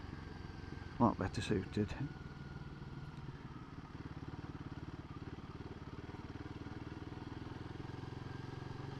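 A lightweight motorcycle rides country lanes around Matlock, its engine a steady, close, even drone throughout, with a few brief louder bursts near the start and someone talking over it.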